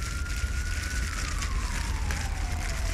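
Cartoon fire engine siren, a single steady wailing tone that slowly falls in pitch over a few seconds, heard over a busy background of music and effects.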